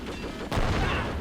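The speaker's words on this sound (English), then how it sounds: "Let's see if we can have an airburst grenade go off" A single airburst grenade detonates in the Men of War: Assault Squad 2 war game, a sharp loud blast cutting in midway, then a sustained noisy rumble and crackle that lingers to the end.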